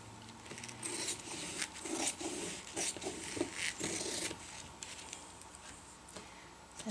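Sharp scissors cut through tarp fabric beside a paper template, producing a run of soft crisp snips and rubbing rustles, close and quiet with no talk.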